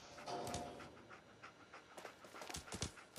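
Dogmeat, the dog companion in Fallout 4, pants quickly and rhythmically at close range, quiet breathy bursts repeating with no talking.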